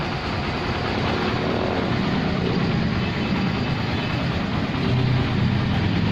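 A Honda Click 150 motorcycle engine runs steadily at close range, a dense, even drone that holds at constant loudness without revving or pauses.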